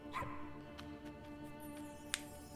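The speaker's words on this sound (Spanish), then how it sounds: "Ladran, ¿eh?" Faint dog-like barks and yips from the video game Endling - Extinction is Forever: a couple of short, distant calls over a steady, quiet ambient game soundscape.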